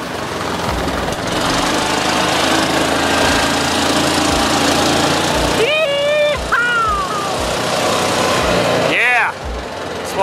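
Kawasaki Mule utility vehicle engine running steadily up close, a continuous loud rumble under short speech-like sounds.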